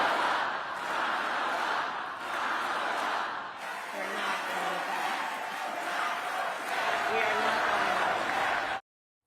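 A large crowd roars and chants at a Kamala Harris presidential campaign rally, a dense, loud, steady wall of voices that holds throughout before cutting off abruptly.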